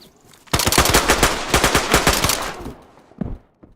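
Rapid bursts of automatic gunfire in the survival game DayZ, a loud sustained volley of sharp cracks lasting about two seconds, trailing off into a couple of final shots.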